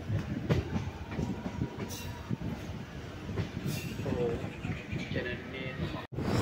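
A MEMU train arriving at Kayamkulam Junction railway station in Kerala, with a continuous rumble of wheels on rails and clickety-clack, occasional squeals, and a person talking over it.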